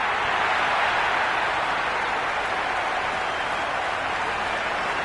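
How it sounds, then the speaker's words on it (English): A large video game stadium crowd at a cricket match roars in a steady, dense wash of cheering that stays loud and unbroken throughout. "Will you listen to that crowd? They are loving this."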